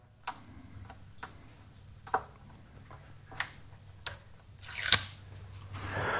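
Double-sided tape being peeled during a Jeep grille install, heard as sparse sharp ticks and small snaps spaced about a second apart, with a brief rougher tearing rasp near the end, close and fairly quiet.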